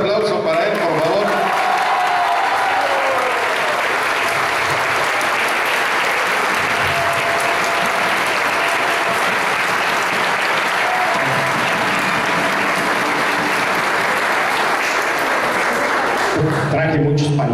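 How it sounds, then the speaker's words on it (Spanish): A large crowd applauds a municipal president at a Poliforum event, with loud, continuous clapping and crowd noise, occasional voices underneath, that cuts off near the end as a voice begins. "Un aplauso para él, por favor."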